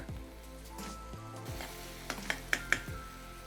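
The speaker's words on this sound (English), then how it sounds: "will continue cooking the onions until they are golden brown in color" Onions and chopped garlic frying in a pan with salt, a steady close sizzle with a few soft clinks of stirring near the end.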